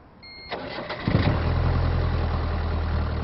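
A hotwired car engine cranks with a few clicks as the starter wires touch, then catches and settles into a steady, close idle.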